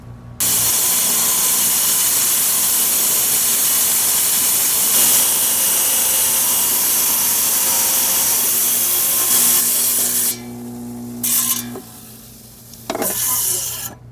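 A saw slices through Agua Nueva vein agate with a steady, loud, hissing grind and a sustained tonal whine, then stops and restarts in short bursts near the end.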